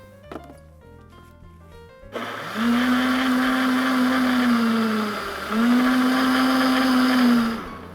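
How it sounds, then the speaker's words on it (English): A countertop blender whirs to life blending a blueberry and spinach smoothie, a loud steady motor whine that dips briefly in pitch and then surges again before cutting off, after a few faint clicks at the start. "All right, let's get this blended up."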